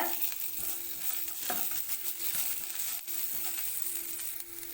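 Curry leaves and asafoetida frying and being stirred in a pan while making coriander rice, a steady close sizzle with scattered light scrapes and clinks throughout.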